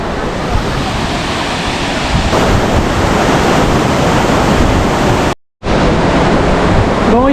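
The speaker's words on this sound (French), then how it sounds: "El Carès, c'est cette petite rivière que vous voyez là" The small mountain river El Carès, in Spain, roars loudly and steadily close at hand, broken by a short dropout near the end.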